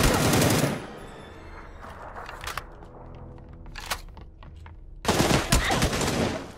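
Bursts of video game gunfire aimed at the player in a multiplayer shooter, a dense loud volley at the start, then scattered quieter cracks before another heavy burst of shots near the end.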